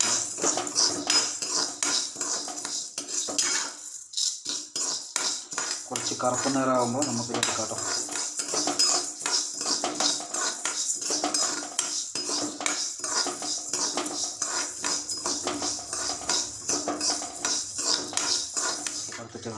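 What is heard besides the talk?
dry-roasting horse gram in a pan, stirring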